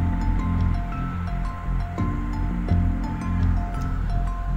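Beef goes into a pan of frying garlic and ginger paste for biryani, making a steady, close hiss of sizzling oil broken by a few soft stirring clatters.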